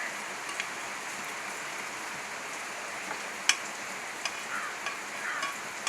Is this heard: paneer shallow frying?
yes